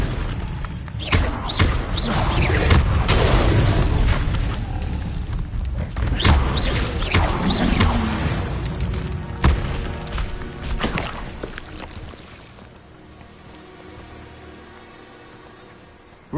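In Hogwarts Legacy, an Incendio fire spell is cast amid a dense run of booming impacts and thuds that are loud and repeated, then tail off into a quieter, fading rumble.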